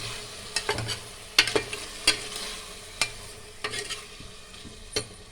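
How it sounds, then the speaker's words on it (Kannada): Ground masala paste sizzling in a pan of vegetables for vegetable pulao, with a spoon scraping and stirring in irregular clacks over a steady low frying hiss, close by. "ಇವಾಗ ನಾನು ರುಬ್ಕೊಂಡಿರುವಂಥ ಮಸಾಲನ ಹಾಕ್ಕೊತಾ ಇದ್ದೀನಿ"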